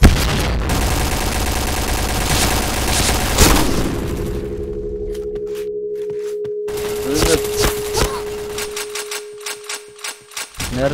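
A heavy boom from a bomb going off in the Point Blank shooter, followed by a lingering ringing tone, then scattered sharp gunshots; voices talk in the background.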